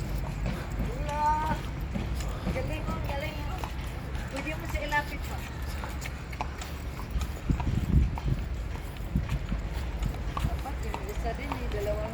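A horse clip-clops on a ride in Baguio City, with its steady hoofbeats close by and continuing throughout while people talk over them.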